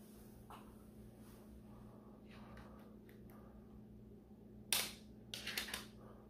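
Priming of a LeedleDynamics Corsair foam dart blaster, a plinker-style stringer blaster: a sharp mechanical clack followed by a quick cluster of smaller clicks and rattles, close and fairly loud over a low background hum.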